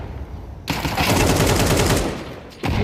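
A sustained burst of rapid automatic gunfire from a Counter-Strike match rattles loud and dense for about two seconds, ending in a headshot, then a fresh shot starts after a brief pause.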